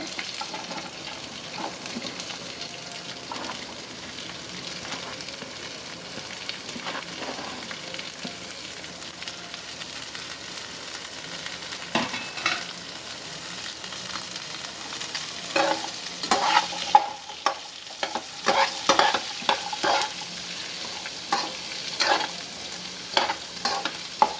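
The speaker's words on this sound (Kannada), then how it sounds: "ಇವಾಗ ನೋಡಿ ಹಸಿಮೆಣಸಿನ್ಕಾಯಿ ಫ್ರೈ ಆಗಿದೆ. ಇದಕ್ಕೆ ಈರುಳ್ಳಿ ಹಾಕ್ತಾಯಿದ್ದೀನಿ ಇವಾಗ." Green chillies and onions sizzle in an oil-filled pan for onion chutney, a steady frying crackle with frequent scraping stir strokes that grow busier and louder toward the end.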